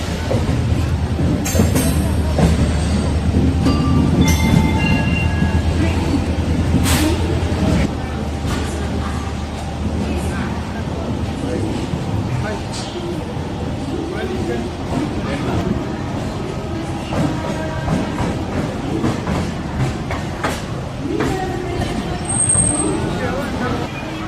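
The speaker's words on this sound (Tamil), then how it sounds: "கேஎஸ்ஆர்ஓ பெங்களூரு ரயில்வே ஸ்டேஷனை ரீச் பண்ணிட்டோம் ஸ்டேஷன் ரொம்ப பிஸியாக தான் இருக்குது" A busy KSR Bengaluru railway station hums with low rumbling engine and rail noise, a hiss of brakes, and crowd chatter and talking throughout.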